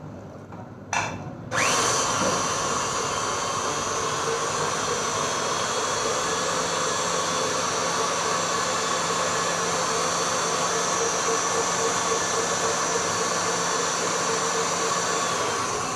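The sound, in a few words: electric whisk mixing tea cake batter with butter and milk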